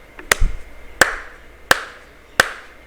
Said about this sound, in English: It took how many claps? Three claps.